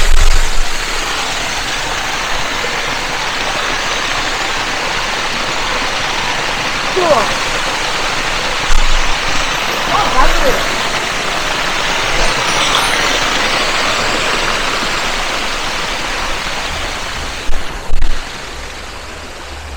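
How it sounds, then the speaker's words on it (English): A small mountain waterfall in a Hunza village in Gojal rushes with a steady, loud broadband roar close by, while a few brief voices speak over it. "Here is a water stream. It's kind of loud, but it's like a small little waterfall"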